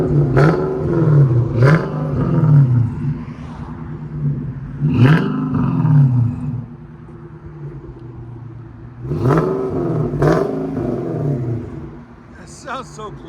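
A 2007 Infiniti M45 with a 4.5L V8, no catalytic converters and a Jones exhaust revs hard several times, each blip rising sharply and falling back to a rumbling idle, loud and close, with someone talking between revs.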